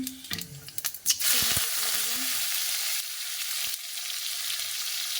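Whole spices hitting hot oil in a wok, a few clanks and taps at first, then a sudden loud sizzle that settles into a steady crackling hiss.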